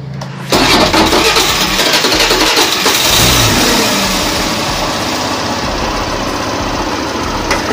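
A repaired engine cranks and catches after a brief quiet start, then settles into a loud, steady idle close to the microphone, with a slight rev partway through.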